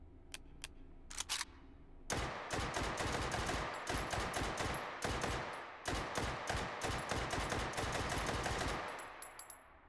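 Incendiary rounds fire in rapid automatic bursts in the VR shooter Hot Dogs, Horseshoes & Hand Grenades, a few single shots first, then sustained loud rattling fire for about seven seconds with brief pauses, ending abruptly.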